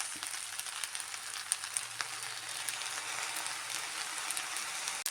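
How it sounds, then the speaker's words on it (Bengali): Black soy sauce goes into chow mein noodles frying in a pan, producing a steady, quiet sizzle with crackling, raindrop-like pops and a faint low hum underneath. "এবার অ্যাড করছি আমি ব্ল্যাক সয়া সস।"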